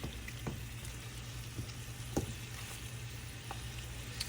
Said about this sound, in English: So we're gonna brown this on this side probably for another 15 minutes.